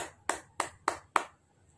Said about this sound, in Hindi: तो हम लोग जोरदार तालियों के साथ आमंत्रित करते हैं श्री